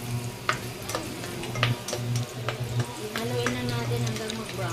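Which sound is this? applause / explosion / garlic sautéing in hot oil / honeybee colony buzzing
garlic sautéing in hot oil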